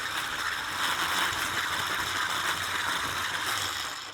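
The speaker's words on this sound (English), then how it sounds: "so just creaming it so it's nice and fluffy like that" An electric mixer creams 80 grams of room-temperature butter for buttercream, giving a steady, close whirring buzz that holds at an even level throughout with no talking.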